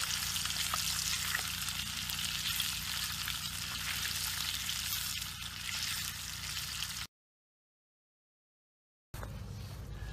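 Catfish and carp fillets fry in a pan with a loud, steady, dense sizzle that carries on for about seven seconds, breaks off into silence, then comes back.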